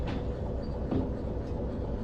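A locomotive in the train simulator Derail Valley rolls at about 15, giving a steady, dense mechanical rumble with faint clanks throughout and no voices.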